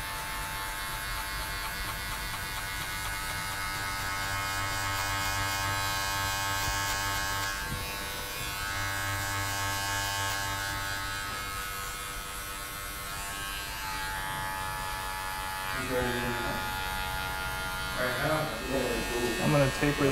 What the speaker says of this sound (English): Take my guard off, leave my clipper open.